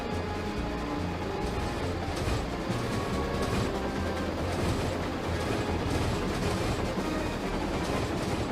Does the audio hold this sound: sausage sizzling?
no